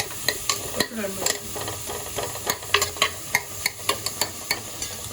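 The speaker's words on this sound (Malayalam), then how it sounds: "നമുക്കിത് ഇളക്കാം ഒന്ന് മിക്സ് ചെയ്യട്ടെ" A spoon stirs biryani rice in a cooking pot, making a series of sharp scraping clacks at an irregular rhythm over a soft continuous sizzle, close and fairly quiet.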